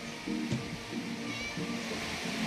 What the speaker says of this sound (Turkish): Bu kedi de hiç susmuyor.